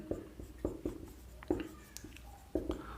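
A pen scratches across a writing surface at close range while Raoult's law is explained, with quiet, irregular strokes and taps in short bursts.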